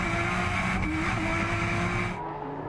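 A Nissan R34 race car from the Powertune team screams under hard acceleration toward a corner on a racing circuit, engine loud and close with rising pitch, cutting off abruptly near the end.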